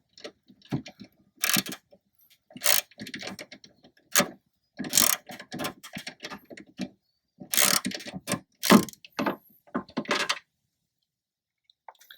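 A ratchet with a 13mm socket tightens a cable bolt on a 2005 Toyota Tacoma Standard Cab tailgate, producing close, sharp clicking bursts in irregular runs separated by brief silences, with no talk.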